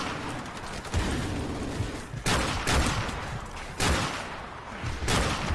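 Dragunov sniper rifle firing in Call of Duty: Modern Warfare Remastered, a few sharp loud shots at intervals over steady battlefield noise.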